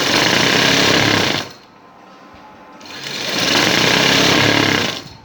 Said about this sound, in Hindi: बॉर्डर को उसके ऊपर रख के सिलाई लगाएंगे इस तरीके से